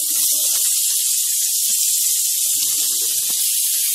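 Carrot and cabbage fry in a pan for vegetable macaroni pasta, giving a loud, constant, close sizzle and hiss throughout, with faint clatter underneath.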